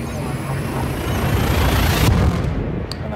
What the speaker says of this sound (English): And there goes the hyperdrive.